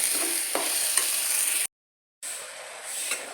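Coriander masala paste for coriander bath being fried and stirred in a pan, a continuous hissing sizzle with soft stirring scrapes, broken by a brief silent gap before the frying sound resumes.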